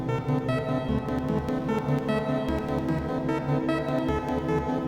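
Synthesized SuperCollider piece from a short code tweet: a dense, continuous loud texture of layered tones and rhythmic pulses running steadily throughout, with no voices.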